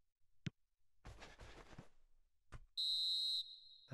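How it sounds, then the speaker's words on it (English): A referee's half-time whistle in the football video game PES 2020 at Stamford Bridge, a single sharp, bright blast lasting under a second, after a few brief crowd and thump sounds. "And there is the half-time whistle."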